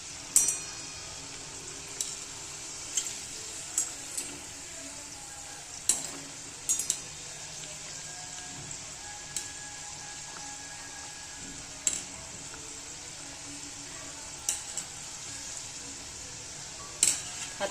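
Food sizzling steadily in a hot pan, a constant bright frying hiss punctuated by occasional sharp clinks and scrapes of a utensil stirring.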